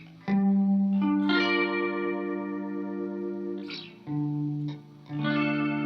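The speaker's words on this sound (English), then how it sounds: "Almost like a light vibrato trim effect." Electric guitar through a Walrus Audio Fundamental Chorus pedal set to a light vibrato-like shimmer, several sustained chords and notes with gentle wavering and reverb tails, moderately loud and alone.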